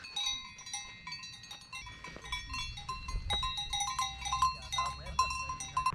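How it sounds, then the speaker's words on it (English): Cowbells on mountain cows clank and jingle repeatedly in an irregular, overlapping pattern on Dolomites pastures near Cinque Torri, fairly close and steady over a low rumble of wind and footsteps. "You can hear bells ringing."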